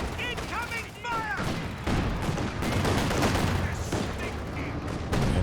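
Machine gun fire and other weapons in a Company of Heroes 2 2v2 battle on the Frost map, rapid bursts and scattered shots layered with battle noise and short whistling sounds, loud and dense throughout.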